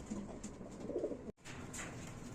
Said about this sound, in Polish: Jak widzicie, jest naprawdę sporo tych gołąbków.